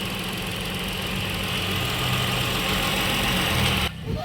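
A steady mid-pitched Ford Explorer engine, with coolant mixed into its engine oil, idles close by with a constant rumbling hum, then cuts off abruptly near the end.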